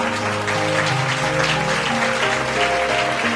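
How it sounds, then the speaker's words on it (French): A church congregation applauding, a steady dense wash of clapping throughout, with sustained tones from music or voices running underneath. "Acclame pour Jésus."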